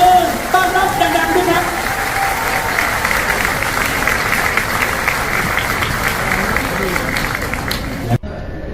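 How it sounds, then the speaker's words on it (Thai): A meeting-hall audience applauds steadily to welcome Thai Prime Minister Srettha Thavisin. The dense clapping stays loud and even for about eight seconds, with a voice briefly over it at the start, then cuts off abruptly. "ขอเสียงปรบมือดังๆต้อนรับ ท่านนายกรัฐมนตรีครับ"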